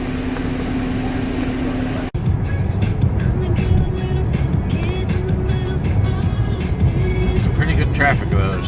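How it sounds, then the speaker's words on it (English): Road traffic passes outside a bus near Paris, a broad, steady rumble of engines and tires after a brief cut, with faint voices talking in the background. "Traffic on the other side."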